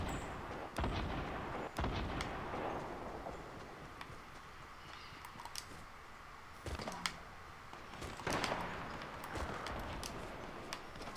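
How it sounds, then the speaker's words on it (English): Gunfire in a Fortnite match played on Xbox: sharp shots at irregular intervals, some loud and close, others softer, with booming bursts over a steady game background. "why are you shooting at him?"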